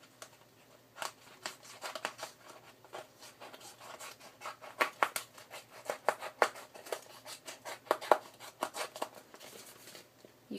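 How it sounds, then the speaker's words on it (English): Scissors trimming excess paper along the edges of a scrapbook layout, a run of quick crisp snips and rustles close by, irregular and fairly quiet, with brief gaps between cuts. "take your scissors and just trim off all this extra part"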